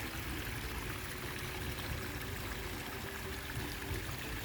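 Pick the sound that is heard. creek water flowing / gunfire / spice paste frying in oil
creek water flowing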